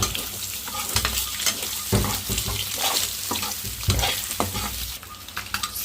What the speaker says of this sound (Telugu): ఇంక ఈ ఎగ్స్ ముక్కలు మొత్తం వేసుకొని లోన గుడ్డు కదలకుండా ఇంక మొత్తం కలిపి